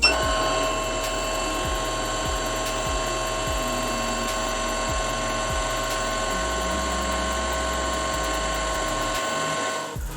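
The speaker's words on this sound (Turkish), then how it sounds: "Buradaki kırmızı butona bastığım vakit makina masura sarma işlemine başlayacaktır." A Moonstar ES5 electronic household sewing machine winding its bobbin, a steady mechanical whirr with an even ticking, gear-like rhythm for about ten seconds, stopping abruptly at the end, no voices.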